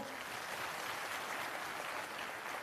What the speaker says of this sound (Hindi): ऐसे युवाओं की हौसला अफजाई के लिए जोरदार तालियां